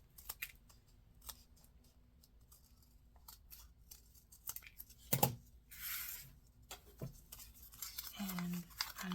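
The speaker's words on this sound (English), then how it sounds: "Cut your petal shape out." Scissors snip through paper to cut out a petal shape for a folded-book vase with paper flowers: a run of short, close, crisp cuts and rustles, with a voice speaking over part of it.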